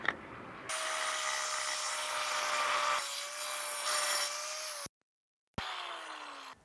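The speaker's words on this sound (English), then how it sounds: "cut it with the diamond blade" A diamond blade grinds through thin slate stone veneer during a porch renovation, a steady, fairly quiet whine with a faint rasping edge that runs for several seconds, halts abruptly, then briefly resumes.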